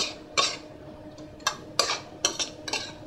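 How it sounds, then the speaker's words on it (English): A spoon clinks and scrapes against a pan as a cinnamon quill and fenugreek leaves are stirred into onions, several sharp metallic taps in an irregular run over a quiet background. "So we'll let those cook in amongst the onions. Give that a good stir in."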